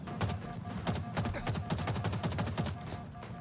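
Rapid automatic gunfire in the Call of Duty video game, a dense burst of sharp cracks in quick irregular succession, loud and close, continuing for several seconds.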